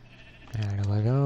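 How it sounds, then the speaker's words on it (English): Sheep bleating in the video game Minecraft, a single drawn-out bleat that starts midway and swells loud and close, rising and wavering at the end. "Damn it, sheep."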